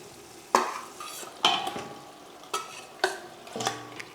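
Marinated chicken goes into a pan of frying masala for chicken donne biryani. Five distinct spoon scrapes and clatters sound at intervals over a quiet background sizzle, close by and without speech.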